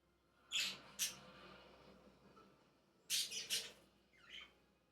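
A pet bird kept indoors gives a few short, bright chirps: two quick calls early, then a tighter burst of three or four, and a softer final chirp, all fairly close over a quiet room with no talking.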